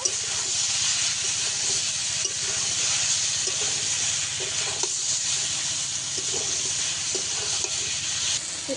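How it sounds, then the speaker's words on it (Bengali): Vegetables and spices being stirred together in a hot frying pan for a Bengali poppy-seed (posto) recipe, with a constant sizzling hiss and soft intermittent scraping of the spatula. "সবকিছু একসঙ্গে ভালো করে মিশিয়ে নেব"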